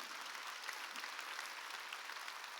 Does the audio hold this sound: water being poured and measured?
no